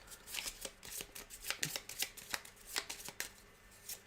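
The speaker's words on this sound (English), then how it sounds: "Then discard all cards. Reshuffle the event deck." Nemesis board game event deck cards being shuffled by hand, a run of crisp riffling snaps and flutters in quick irregular bursts, close and fairly quiet with no talking.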